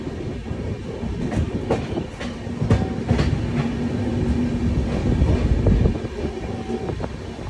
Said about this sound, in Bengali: আমাদের ট্রেন কিন্তু ছেড়ে দিয়েছে বোলপুর শান্তিনিকেতন থেকে